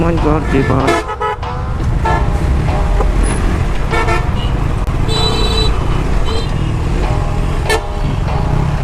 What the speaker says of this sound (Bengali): সব জায়গায় শুধু জ্যাম আর জ্যাম